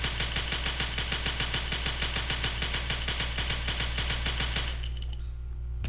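An MP41 submachine gun in Call to Battle 2 fires one long continuous automatic burst, rapid evenly spaced loud shots for about five seconds before stopping abruptly, no voices.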